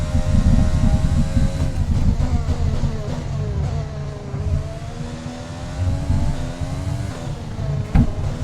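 F1 2020 race car lapping a track: a high engine whine rises and falls through gear changes and throttle lifts, continuous and close, with faint tyre noise and no talk.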